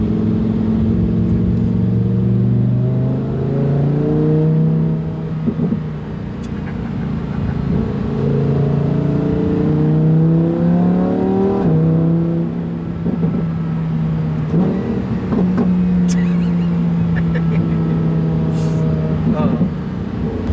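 A Lamborghini Huracán Performante sports car engine hums and revs steadily, its exhaust rising and falling in pitch while a person talks over it throughout.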